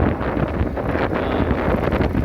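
Strong wind buffeting the microphone on a rented motorbike riding along a coastal road at Vung Tau, a loud, continuous rumbling roar with no talk.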